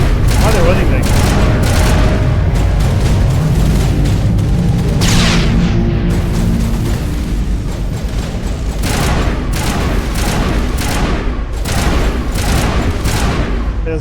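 Assault rifle fire in Mass Effect, with sustained loud bursts of shooting and booming impacts running through the whole stretch, layered over game music and effects.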